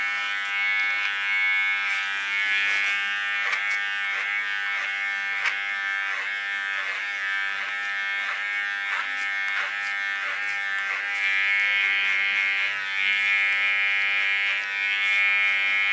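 Electric hair clippers shave the nape of the neck, giving a loud, continuous close-up buzz that pulses slightly as they move across the hair, with no voices.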